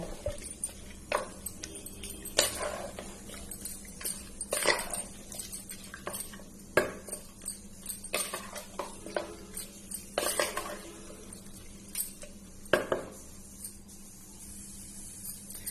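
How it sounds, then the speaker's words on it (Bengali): Beef being fried and stirred in a pot with soybean oil, marked by irregular metallic scrapes and clinks of a spoon against the pot over a low steady hum. "মাংসটা কষানো হচ্ছে আমি একটু নেড়ে দেব যাতে নিচে লেগে না যায়"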